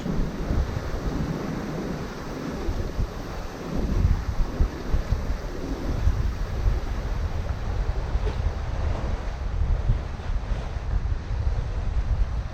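Steady wind and sea wash while a sailboat runs under full sails in an easterly breeze of about 10 knots, a continuous broadband rush with gusty swells and no talk.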